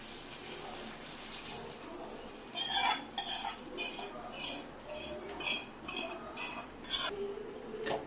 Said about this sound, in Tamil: தாளிப்பு சேர்த்துட்டு நல்லா கிளறி விட்டு இன்னும் கொஞ்சம் நல்லா கொதிக்க விட்டுக்கலாம்